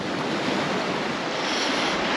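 Moderate, slow ocean swell rolls around a sailboat in mid-Atlantic, a constant rushing wash of water mixed with wind buffeting the microphone, close and steady with no speech.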